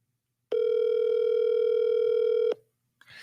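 A phone call goes unanswered, one loud, steady ringback tone lasting about two seconds after a brief silence, then stopping sharply before a faint rustle.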